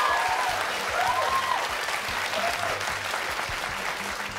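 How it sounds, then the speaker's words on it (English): An audience at a high school quiz show, Framingham versus North Quincy, claps in a full, steady round of applause that holds for several seconds at an even level. "Nice round of applause, please."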